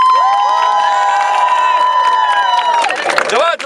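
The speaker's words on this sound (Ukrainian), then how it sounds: "Дівчата, давайте будемо верещим, кричимо, радіємо!" A group of girls shriek and cheer together at a folk-costume gathering, loud high-pitched sustained screaming that rises and breaks into excited shouts near the end.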